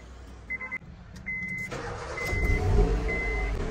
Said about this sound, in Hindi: तो गाड़ी स्टार्ट करते हैं हम